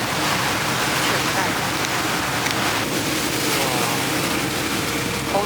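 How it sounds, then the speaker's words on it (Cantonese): A boat rolling side to side in big ocean waves off northern Iceland, dense continuous rush of surf, wind and splashing water, loud and close, with a person briefly speaking over it. "我哋而家條船都真係幾跑咁，幾大浪，而家左右擺咗"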